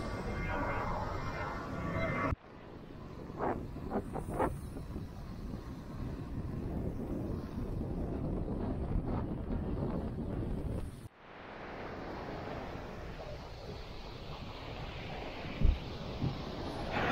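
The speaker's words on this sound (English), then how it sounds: "It's really windy." Strong wind buffets the microphone at a Florida state park beach, rumbling gusts that rise and cut out abruptly, with a few faint knocks in between.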